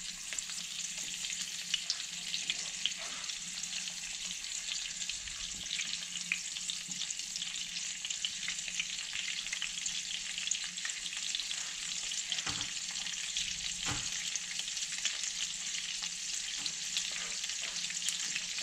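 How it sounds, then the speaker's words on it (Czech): Homemade wine sausage fries in a pan with a steady, close sizzle and crackle that holds for the whole stretch, with a few soft knocks as it is turned. "No a budeme smažit, jo,"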